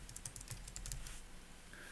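A computer keyboard clicks through a quick run of light key presses, about a dozen taps at an uneven pace, close and quiet, then stops while faint room noise continues.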